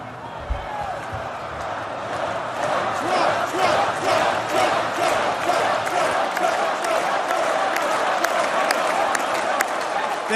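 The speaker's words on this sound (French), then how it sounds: "Merci pour ces applaudissements." A large audience at a Donald Trump speech applauds steadily, dense clapping with crowd noise and scattered shouts sustained for about ten seconds.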